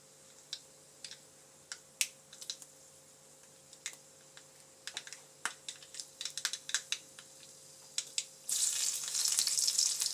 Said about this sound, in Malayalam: കടുക് പൊട്ടിയ ഉടനെ നമുക്ക് ഉള്ളി ഇട്ട് കൊടുക്കാം